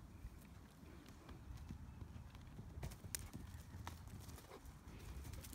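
A ridden horse named Seamus trots, its hooves clip-clopping in a steady, quick rhythm, faint and somewhat distant over low rumbling background noise.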